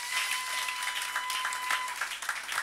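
A church congregation claps together in steady, moderately loud applause during a French-language service, with a sustained tone ringing underneath.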